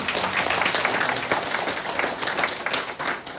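Applause from a church audience at a Saturday prayer meeting, dense and steady clapping filling the room for a few seconds with a slight dip near the end.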